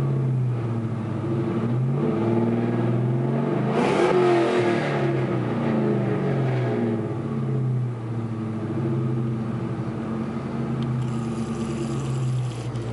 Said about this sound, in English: So it's an off-road X pipe to Flowmaster original 40s.